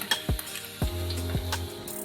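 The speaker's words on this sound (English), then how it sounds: "I need some oil, and now I'm gonna put this garlic," A tablespoon of garlic sautéing in oil, a bright steady sizzle close by punctuated by four sharp stirring scrapes and clinks of a utensil in the pan.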